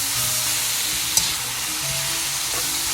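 Thin beef slices stirred in hot oil on high heat for Filipino bistek tagalog, a steady loud sizzle with occasional scraping of the utensil against the pan and one sharp clink.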